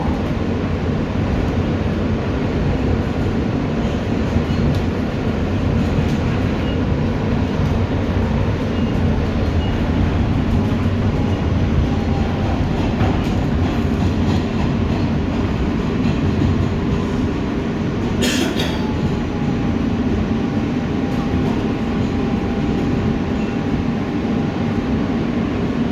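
R160B Siemens Q local subway train running on the BMT Brighton Line toward Coney Island, a steady loud rumble and rattle of the car rolling along the track throughout, with a faint rising tone and brief screech near the end.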